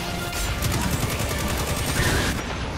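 Sustained gunfire in the shooter game Destiny 2, a dense, continuous barrage of rapid automatic shots and crashing impacts that fills the whole stretch at an even, loud level with no voices.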